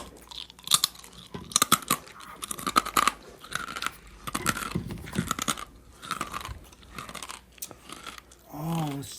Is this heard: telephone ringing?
no